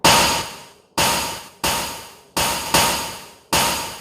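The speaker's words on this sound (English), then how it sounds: "I feel like the snare needs to be beefed up as well a little bit" Synthesized snare drum from an MPC 500 processed with a grunger effect, six sharp gritty hits with quick decays, repeated at a steady pattern, dry and close with nothing else heard.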